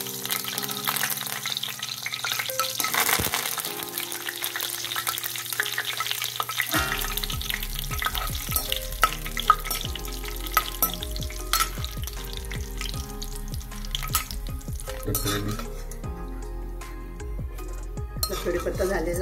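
Curry leaves frying in hot oil in a pan for a fasting chivda recipe, a steady close sizzle and crackle with a few utensil clinks, someone talking over it throughout.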